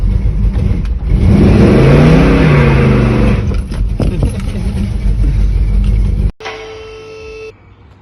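A Buick's engine revs up hard in a garage, rising and falling in pitch, then settles to a rough idle before cutting off abruptly, leaving a faint electronic tone.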